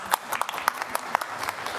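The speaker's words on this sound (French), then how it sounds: "Applaudissez-le." Sparse, scattered clapping from a small church congregation during a homily, individual hand claps landing irregularly and fairly quiet over a soft room background.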